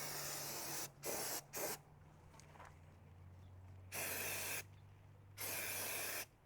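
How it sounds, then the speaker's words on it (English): Several hissing bursts from an aerosol can: two short quick sprays, then two longer ones after a pause, close and loud over a low hum. "Dude, this is a powerful spray."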